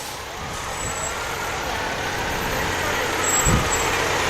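Volunteer fire rescue truck rolling past in the Toronto Christmas Parade, a low steady engine rumble with crowd ambience and a short thump near the end.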